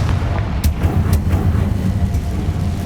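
Confringo blasting spell explosion in Hogwarts Legacy: a loud, continuous low rumble with a few sharp cracks, close and heavy, with no voices.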